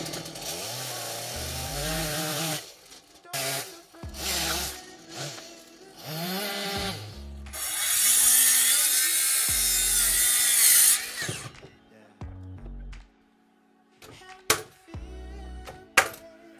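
Rough, grinding sawing through wood during cabin frame construction comes in bursts of varying length, loud and close, with pauses and a few sharp knocks between passes.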